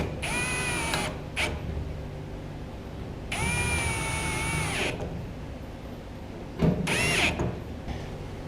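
A ratchet works in bursts while bolting down a fuel tank on a C10 truck: three sustained mechanical whirring runs, each a second or more long, separated by pauses, close up, with no voices.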